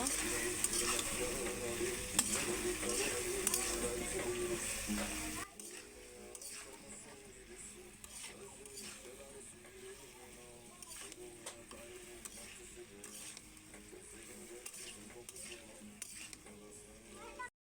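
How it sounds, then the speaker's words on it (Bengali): Rohu fish curry with cauliflower, potato and tomato being stirred in a pan: loud frying sizzle at first, then quieter bubbling with repeated scraping and clinking of a spatula against the pan. "ভালো করে নেড়ে চেড়ে নিব"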